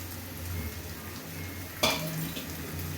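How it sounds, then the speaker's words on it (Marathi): A wild leafy vegetable drops into a pan of browned fried onions, setting off a steady low sizzle with one sharp clatter partway through, heard alone at close range. "आता कांदा छान लाल झालेला आहे, त्याच्यामध्ये आपण भाजी टाकून घेऊ."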